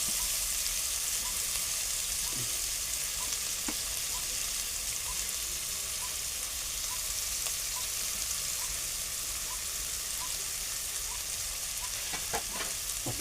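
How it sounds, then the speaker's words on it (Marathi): Stuffed brinjal masala being stirred as it fries in a pan over a wood-fired stove, a steady low sizzle with a few faint scraping clicks of the spoon, no voices. "आपण आता हे ढवळून घेऊ."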